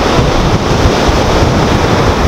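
Ocean waves on the shore of Parangtritis beach at night, a loud, continuous rushing wash with wind buffeting the microphone and no voices.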